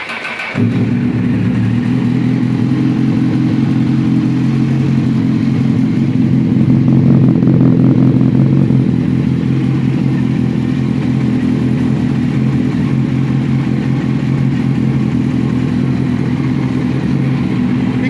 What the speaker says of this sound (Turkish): Şimdi bir çalıştıralım boşta motor.